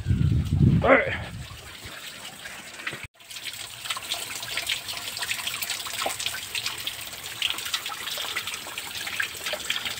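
Water from a small waterfall trickles and splashes steadily outdoors, with a burst of louder noise and voices near the start before the flow settles into a continuous rush.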